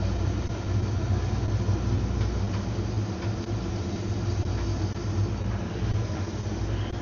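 A boat engine of about 400 horsepower idles with a steady low rumble at the dock on a fishing boat during test shifting, constant and close with no speech.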